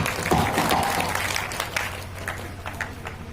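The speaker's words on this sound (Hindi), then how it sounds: "पर तालियां बजाइए भाई।" Audience clapping at a Hindi poetry gathering (kavi sammelan) at a college in Beniganj, Hardoi, a steady crowd applause with scattered sharper claps over a low hum, fading slightly toward the end.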